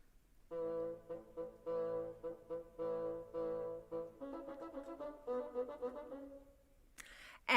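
Bassoons play a woodwind passage of short, low, reedy notes in a detached rhythm, followed by a sustained lower line, heard alone and fairly close before a brief sound at the end.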